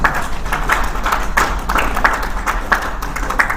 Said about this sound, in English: Another resounding round of applause there.